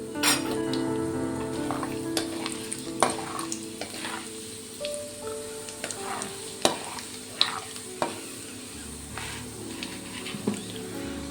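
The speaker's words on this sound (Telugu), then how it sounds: "స్టవ్ మీద ప్యాన్ పెట్టుకొని ఆయిల్ వేసాము. ఇప్పుడు తాలింపు గింజలు వేసుకుందాము." Tempering seeds hit hot oil in a pan on a stove, a close crackling sizzle with repeated sharp pops and spatula clinks that grow sparser over time.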